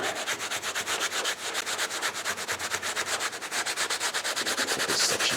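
Rapid rhythmic scrubbing strokes rub across a leather jacket being weathered, a quick, even back-and-forth scratching kept up steadily and close by.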